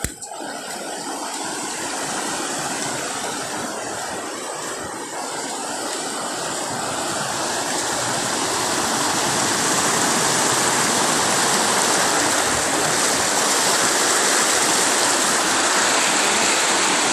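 Loud, steady rush of fast-flowing river water, a continuous broadband roar that builds slightly and fills the whole clip with no voices.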